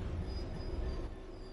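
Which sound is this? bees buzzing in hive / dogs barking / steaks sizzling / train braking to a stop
train braking to a stop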